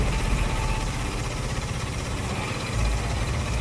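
A diesel generator runs with a dense, steady mechanical drone and low vibration, loud and close, with a slight swell near the end.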